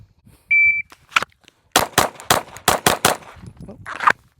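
Rapid Glock 19X pistol shots at a shooting range, about seven sharp cracks in quick succession after a brief beep, loud and close with no talking.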